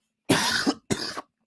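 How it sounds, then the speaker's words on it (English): Two close bursts of coughing and throat clearing, fairly loud and near, with no talk around them. "Not alongside a bunch of coughing"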